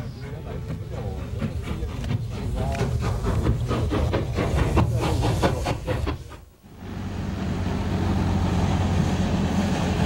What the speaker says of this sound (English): First stopping at Reisa to sample the standard gauge steam parade, celebrating 150 years of railroading.